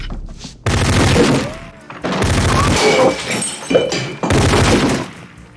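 Loud bursts of gunfire and shattering crashes from a bar shootout scene in a film erupt in several heavy waves, with shouting voices mixed in between the blasts.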